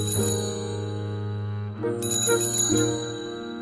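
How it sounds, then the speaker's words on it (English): A bell rung a couple of times, bright metallic dings ringing out over a steady sustained tonal background. "Look at what my bell can do."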